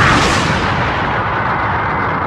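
Vegeta's Final Flash energy attack against Cell in Dragon Ball anime: a loud, dense roaring blast that rushes in at full force and sustains as a broad, rumbling wash, slowly thinning over two seconds with no voices.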